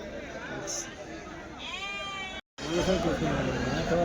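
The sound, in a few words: goats bleating at the Kadiri livestock market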